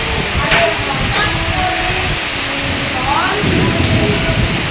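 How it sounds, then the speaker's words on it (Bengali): Heavy rain pours during a storm in a steady, loud roar that fills the whole clip, with faint voices and occasional sharp sounds underneath. "প্রচুর ঝমঝম করে বৃষ্টি হচ্ছে ঝড় হচ্ছে যেমন ঝড় হচ্ছে তেমনি বৃষ্টি হচ্ছে"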